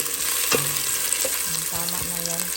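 Onion fries in a hot pan for a beef steak and chicken liver adobo, a steady crackling sizzle broken by a few utensil scrapes and clinks, with no talk.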